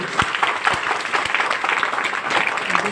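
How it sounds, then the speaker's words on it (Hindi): Loud applause from a crowd at a network-marketing program in Siwai, a steady wash of many hands clapping with a few sharper claps standing out near the front. "एक बार जोरदार तालियां सीमान वालों के लिए"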